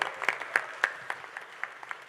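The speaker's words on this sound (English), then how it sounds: "it's a really round of applause for this awesome person" A small audience claps in a brief burst of scattered, uneven hand claps, moderately close and fading slightly toward the end.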